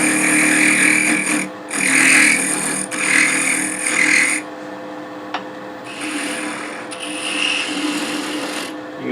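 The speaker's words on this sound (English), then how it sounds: "Going to get the speed up to a couple thousand. I'm just going to planing cut here, getting round" A wood lathe spinning a pear shape at a couple thousand RPM while a tool takes planing cuts to round it, giving bursts of loud rasping shear separated by short pauses, close up with no talk.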